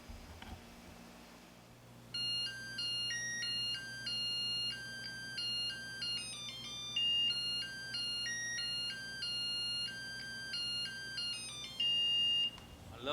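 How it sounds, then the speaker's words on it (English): A Zojirushi NP-HCC10 rice cooker plays its electronic completion melody when the rice is done, a clear beeping tune of bright tones repeating over several phrases against faint background hum. "I love the sound of this rice cooker makes when rice is done."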